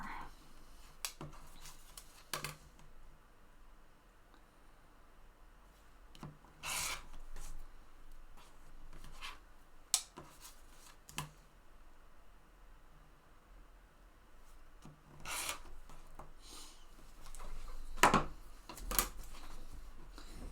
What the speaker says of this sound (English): So I'm just going to trim all the way around the square.